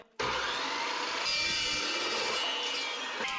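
Power saw chopping through metal stock to fabricate coil-over mounts for a 1967 Toyota Stout, one loud continuous cut starting abruptly and running steadily close up, with no voices.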